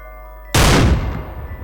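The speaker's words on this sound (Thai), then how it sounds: "นี่เรียงตัวเลยดูสิว่าปืนนี้ ยิงแล้วเสียงปืนจะเป็นยังไงฟังดูนะ" One sharp, powerful Barrett sniper rifle shot in the video game Special Force 2 cracks out close and loud, then its boom rolls away in a short fading echo.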